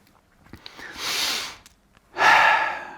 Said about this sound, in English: Wake up the olfactory part of my brain and let's sniff